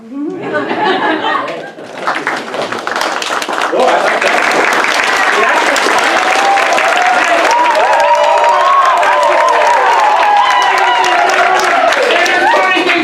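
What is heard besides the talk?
audience applause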